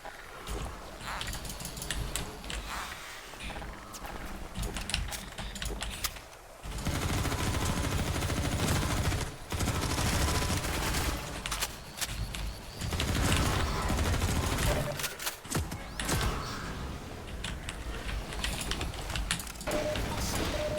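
Shotgun fire in Half-Life 2 MMod during a fortress raid, with heavy, dense blasts packed into repeated bursts across a loud, chaotic firefight, separated by brief lulls.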